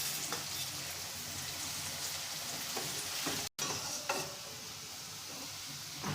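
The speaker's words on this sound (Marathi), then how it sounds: "आता राहिलेले जे कारले आहे ते पुन्हा परत टाकत आहे यामध्ये. हे पण अशाच प्रकारे तळून घेणार आहे." Bitter gourd pieces fry in hot oil with a steady, dense sizzle close by, broken by a few stirring clicks and one brief dropout midway; nobody speaks.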